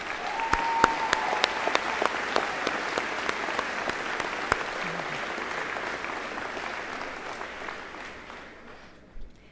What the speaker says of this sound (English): would you stand up so that we can send you a round of applause?